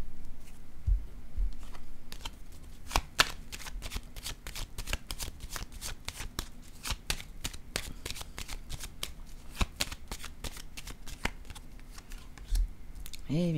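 Playing cards are shuffled and set down in a dense run of quick, crisp riffling snaps and slaps. The sound is close and fairly quiet and continues throughout.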